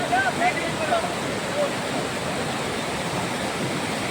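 Water at Seethar Kund waterfall rushes in a steady, full-bodied roar that stays constant throughout, with a few faint high whistling tones over it at the start.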